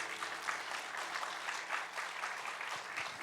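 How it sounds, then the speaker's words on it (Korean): Church congregation applauding to encourage children from the nursery, kindergarten and elementary departments, a steady, even roar of many hands clapping throughout, moderately distant and unbroken, with no speech on top. "크게 여러분 한번 박수 쳐주시고 격려해 주시면 되겠습니다."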